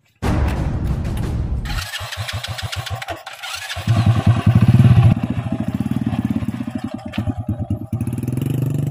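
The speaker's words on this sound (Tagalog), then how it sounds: "Ang dakalan ng motor na dumadaan" Several motorcycles pass close by on a street, engines revving and sputtering loudly in repeated bursts with a steady low rumble underneath, alone with no talk.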